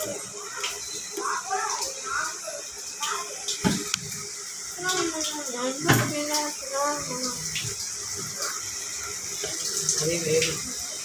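Running water from a tap splashes steadily in the background while people talk nearby.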